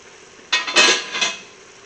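A small spoon clinks and scrapes against a pot of browned ground beef and cooked onion, a short burst of metallic knocks and rattles over about a second, close and fairly loud.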